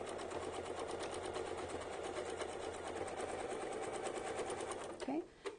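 A sewing machine stitches steadily against a ruler-work template, its fast even whir running unbroken for about five seconds before stopping abruptly, followed by a brief clunk.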